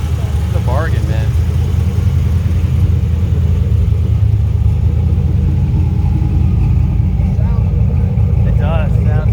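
A 1987 Pontiac Trans Am with a built 400 V8 of about 500 hp and a five-speed idles with a deep, throaty, steady rumble close by, while people talk over it.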